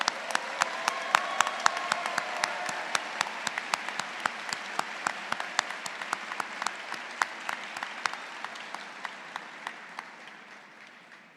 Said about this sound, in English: Let's give a round of applause to all of our PhD graduates.